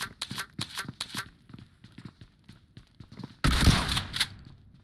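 Gunfire in the mobile battle royale game PUBG Mobile: rapid bursts of shots in quick clusters, then a loud dense volley near the end.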